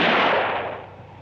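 A single loud shotgun blast, close and sharp, with a long decaying boom that fades over about a second; no voices.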